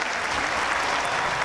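Steady, dense applause from an audience at an open-air community opera performance in Amsterdam-Noord, filling the whole stretch at an even, fairly loud level with no voices standing out.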